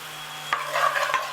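Pre-cooked dhal is stirred into a simmering mushroom dansak, giving two quick spoon scrapes against the pan over a low, steady bubbling hum.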